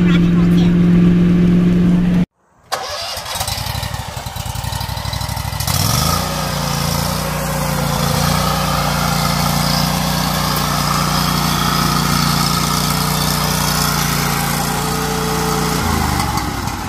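A zero-turn lawn mower engine idles loudly and steadily close by after a brief cutout, with a slight shift in pitch partway through and the constant drone continuing to the end.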